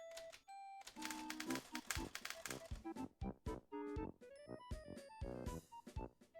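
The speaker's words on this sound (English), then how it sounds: "I love the keyboard sound." Rapid, clattering keystrokes with a typewriter-like snap come in dense bursts, mixed with short tonal beeps, close and fairly loud.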